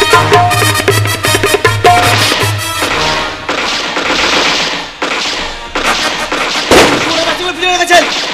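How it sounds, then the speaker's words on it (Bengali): Rapid bursts of gunfire and machine-gun rattle mixed with dramatic music, loud and chaotic with scattered sharp cracks. "চতুর্দিকে গুলির শব্দ"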